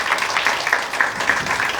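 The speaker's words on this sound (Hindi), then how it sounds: "एक बार जोरदार तालियां आप सबके लिए" Audience applause fills the room at a live Hindi stand-up comedy show, Nishant Dheer Live 2023: a brief, continuous burst of many hands clapping at close range, with no voices heard.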